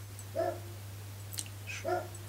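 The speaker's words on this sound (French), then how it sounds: "C'est mon chien." A dog barks twice indoors, two short separated barks with a fainter yelp between them, over a steady low electrical hum and no talk.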